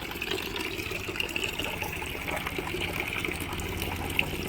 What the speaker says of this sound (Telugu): ఈరోజు ఏదో నీళ్ళు వచ్చేసినాయి